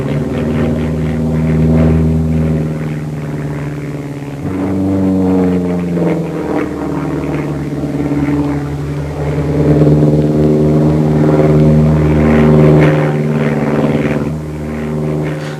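Propeller aircraft performing at an Aero Club flying display, a loud sustained engine drone that swells and shifts in pitch as it passes, with no voices.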